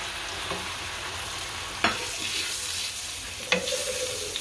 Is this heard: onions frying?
yes